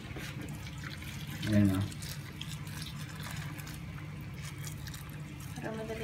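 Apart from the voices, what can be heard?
pouring hot water over shrimp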